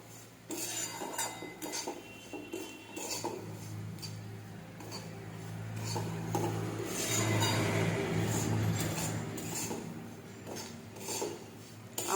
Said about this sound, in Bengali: এটাকে ভালোভাবে নেড়ে নেব।